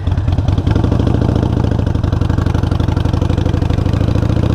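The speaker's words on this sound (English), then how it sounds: "Easing out the clutch lever while rolling on the throttle, lifting legs up once you're going a good speed" A motorcycle engine chugs and clatters close by as the clutch is eased out with throttle to pull away, a steady, loud, pulsing rumble with a slight rise in pace and no talking.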